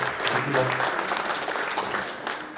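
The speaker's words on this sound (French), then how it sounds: "Applaudissements." Warm applause for participants at an oyster-shucker seafood platter contest in Charente-Maritime, a steady crowd clapping at moderate level that fades slightly toward the end.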